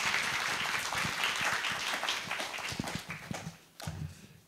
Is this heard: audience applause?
yes